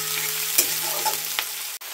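Onions with salt frying in a pan until brown for an Indian-style chicken and potato curry, a steady close sizzle with faint stirring scrapes, no talk.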